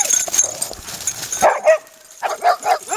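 A dog barks several times in short loud bursts, close and excited, with faint yips and whimpers amid outdoor noise.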